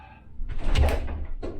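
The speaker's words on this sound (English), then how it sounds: "opening the door" A cruise ship cabin bathroom door is opened, giving a short low thud and rattle followed by a brief scraping swing, close and fairly loud, with no speech.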